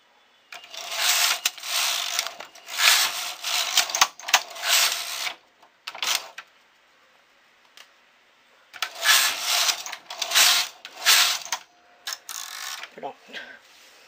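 A home sewing machine stitches a newborn romper in quick stop-start bursts: a long run of close mechanical whirring, a pause, then a second stretch of stitching with brief clicks between runs.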